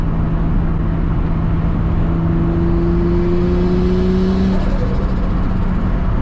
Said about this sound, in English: Turbo sounds insane.